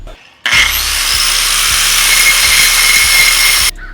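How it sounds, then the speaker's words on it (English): An angle grinder fitted with a metal grinding wheel grinds down a car part during a BMW E9X wheel conversion. It makes a loud, continuous, high-pitched grinding roar that starts abruptly, holds steady for about three seconds and then cuts off. "You're just gonna need an angle grinder and a grinding wheel made specifically for metal."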